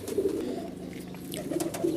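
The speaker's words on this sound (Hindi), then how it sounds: "ये 8 नंबर मेरा कबूतर है और रामपुरी प्लस टेडी का क्रॉस है ये" A home-bred pigeon, a Rampuri and Teddy cross, gives soft, low throaty coos close by, with faint chirps from other birds in the background.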